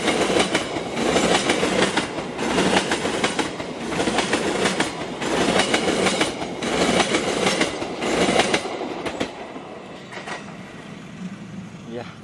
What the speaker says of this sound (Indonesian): nih yang masuk ke stasiun Padalarang. Nampaknya kereta serayu